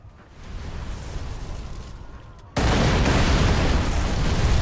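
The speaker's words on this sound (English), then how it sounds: "It's about to get loud with explosions." Explosions in a video game speedrun: a muffled, rumbling roar builds and then jumps to a loud, sustained wall of blasting noise that stays heavy to the end, with no voice over it.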